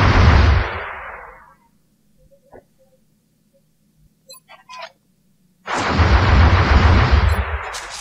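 Suppressive gunfire in X-COM Enemy Unknown: a loud sustained burst of automatic fire that fades out, a near-silent gap with a few faint clicks, then a second long, heavy burst.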